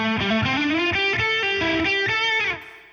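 An electric guitar played through an OPFXS Twin Boost pedal with both distortion and boost engaged rings out as a thick, sustained, harmonically rich lead line of several notes, close and loud, before cutting off at the end.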